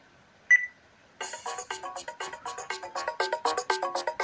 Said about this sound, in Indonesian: Ini formatnya masih MIDI nih ya, ringtone-nya nih.